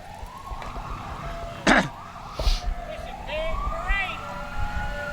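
Sirens wail at a Christmas parade, a rising-and-falling emergency-vehicle siren sweeping through the street alongside crowd noise, a brief blast and chatter, with people talking nearby.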